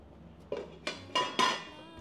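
A large metal frying pan, a kawali, clanks and knocks four times in quick succession as it is picked up and set on a stove, each strike ringing briefly, with no one talking.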